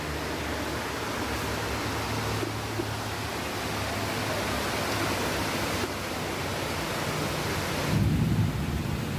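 Steady, heavy rain pours continuously on a monsoon day, with a low roll of thunder swelling briefly near the end.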